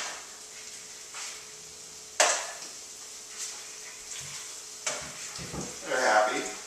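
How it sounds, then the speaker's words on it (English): Leek and sweet potato cakes fry in a pan with a soft, steady sizzle, broken by a sharp clatter of a pan or lid and a few duller knocks, while someone talks in the background. "Sweet potato cakes are cooking right behind us."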